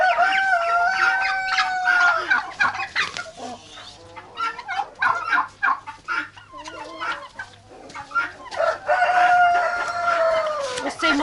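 In a Ukrainian village yard, a rooster crows near and loud over steady clucking from chickens and turkeys, with a second long crow near the end.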